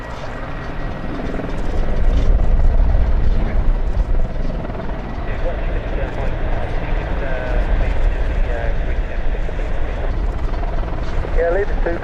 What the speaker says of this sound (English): enjoy the wonderful sound of warbirds from the Battle of Britain air show at Duxford